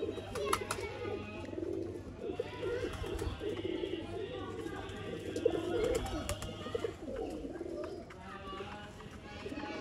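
A pair of golden breeder pigeons coos steadily at a home loft, soft throaty rolling calls repeating close by, while people talk over them throughout.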